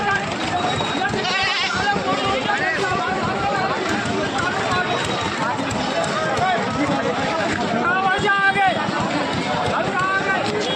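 Goats and kids bleat repeatedly over a dense crowd hubbub at a busy outdoor goat market, calls rising from several animals at once, loud and continuous, with people talking throughout.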